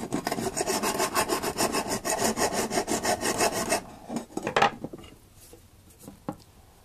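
Scraping across a piece of brass scrap metal to expose its bare color, a steady rasping stroke repeated rapidly for about four seconds, then a few separate scratches and knocks.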